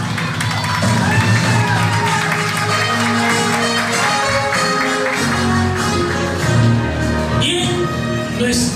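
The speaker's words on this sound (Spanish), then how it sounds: "Aplausos para ella." A crowd claps and cheers for Marlene Abad Cortés at a talent event, a dense and steady roar of clapping and voices with music running underneath.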